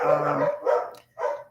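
Dogs barking close by indoors, a few short harsh barks and yips in quick succession, loud and alone without speech.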